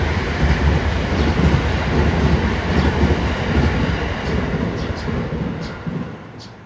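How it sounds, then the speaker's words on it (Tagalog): A train passes through a quiet outdoor area in Japan on a drizzly day, its low steady rumble filling the clip before fading slightly toward the end, with faint birdsong above it. "May train yata dadaan."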